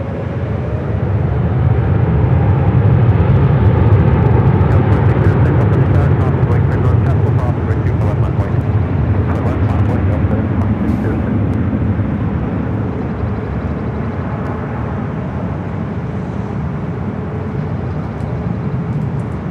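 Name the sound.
Airbus A350-900 jet departing for Shanghai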